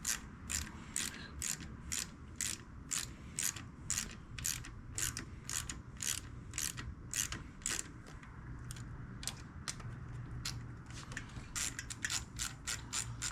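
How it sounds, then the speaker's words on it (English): A ratchet tightens gasket bolts on a 2008 Harley-Davidson Sportster 883, clicking in a steady, evenly spaced series of sharp close ratchet strokes that continues almost without pause and with no talk. "I like to tighten these evenly on both sides"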